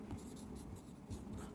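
Chalk scratches steadily across a board as the symbol pi is written during a maths lesson on types of numbers, a continuous close scraping texture with brief pauses between strokes.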